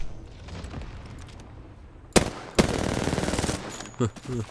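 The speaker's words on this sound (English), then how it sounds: "Oh no, that was cannon." Cannon fire in an online multiplayer video game: two sharp, loud booms about half a second apart, the second trailing into a sustained rumble, followed by a few lighter impacts, with faint background noise before.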